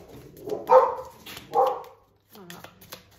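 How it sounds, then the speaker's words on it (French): Several dogs bark in a few loud bursts close by, with a pause before a softer final yelp, mixed with some speech-like sound. "Tu as eu la chance d'entendre mes chiens."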